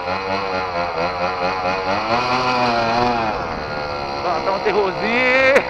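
Motorcycle engine revving loudly at close range, a harsh buzzing drone with rising and falling pitch and a sharp rev near the end, under a mix of other noise.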